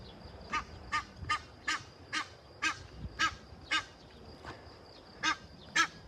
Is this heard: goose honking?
yes